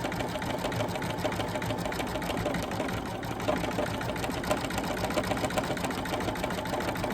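A sewing machine runs steadily, stitching an Easter bunny table runner, its rapid needle chatter continuous and close with no pauses.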